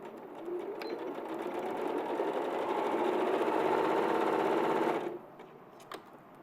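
A sewing machine runs steadily for about five seconds, stitching fabric with a close, even whirring hum, then stops, leaving quiet room tone.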